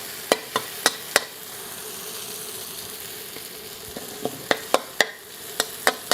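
Stink beans frying in a hot wok for Indonesian nasi goreng: a continuous sizzle broken by sharp, repeated metal spatula scrapes and taps against the pan.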